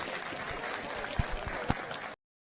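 A crowd at a junior livestock show market swine event gives a brief round of applause for young hog exhibitors, a soft, steady patter of clapping at moderate distance that cuts off abruptly.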